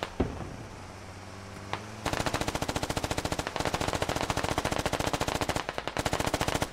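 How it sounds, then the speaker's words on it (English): AR rifle fire in the military shooter game Squad: after a couple of isolated shots, a long rapid burst of sustained automatic fire rattles on with brief pauses, loud and close. "Wobbering with his AR, standing and firing."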